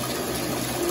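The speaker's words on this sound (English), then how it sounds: "Bath's still running" A bathtub filling with running water, a loud steady gush from the tap that stays constant throughout, close up and alone.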